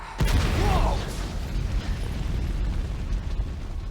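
A heavy booming blast from a Resident Evil 2 cutscene explosion, with a sharp onset, then a long rumbling roar and crackle that trails off slowly, loud and without speech.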